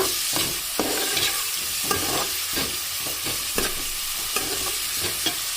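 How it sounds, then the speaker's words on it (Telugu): Onions fry with a steady close sizzle, punctuated by regular scraping stirs of a spoon against the pan. No voices. "ఇది గోల్డెన్ బ్రౌన్ వచ్చేంత వరకు బాగా వేయించుకుంటాం"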